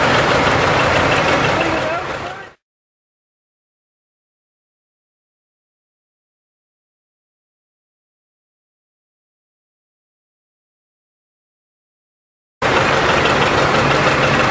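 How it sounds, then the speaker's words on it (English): A John Deere 830 diesel tractor idles with a chugging rumble at a homecoming parade. It is heard in two short bursts separated by a long silent gap, with someone talking over it. "And the 830 diesel John Deere."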